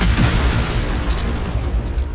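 Explosives such as fire wine or oil barrels detonate in Baldur's Gate 3, producing loud, dense booming bursts that roll on with rumbling aftershocks.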